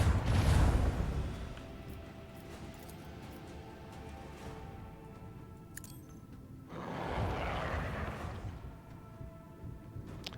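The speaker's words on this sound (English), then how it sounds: "Macro cannons, open fire!" Macro cannons firing in the Warhammer 40,000: Rogue Trader game, two broad booming blasts, one at the start and another around seven seconds, with a low rumble between.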